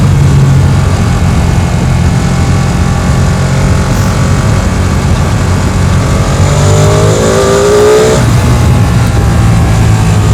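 A Ducati Panigale V2 sport motorcycle engine roaring on the road, a loud sustained drone that climbs through the revs with a brief shift around the middle before pulling on.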